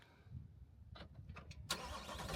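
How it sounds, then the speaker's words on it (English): A Corvette C8's 6.2-liter V8 warm-starting: a few faint clicks, then the engine catches with a sudden loud burst that settles into a steady, close rumble. "This is a warm start."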